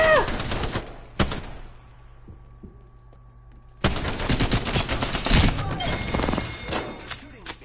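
Gunfire in the Apex Legends video game, loud bursts of rapid shots that stop for a quiet stretch and then resume in heavy overlapping volleys, with a player's voice talking over part of the action.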